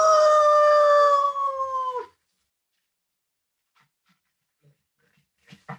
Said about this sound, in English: the sheriff's dog